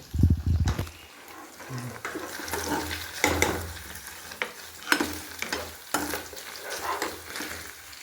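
Food fries in a pan with uneven bursts of sizzling that swell and fade, starting with a loud splash-like hiss, then irregular crackles at close range.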